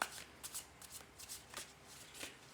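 Tarot cards shuffled by hand in quick, soft riffling bursts, several crisp flutters spaced through the moment, close and quiet with no talking.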